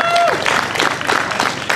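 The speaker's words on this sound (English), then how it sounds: "Give her another round of applause" Crowd applause at a candlelight vigil at the Concord State House breaks out in a short, dense burst of clapping that stays fairly loud and steady throughout, with voices mixed into it.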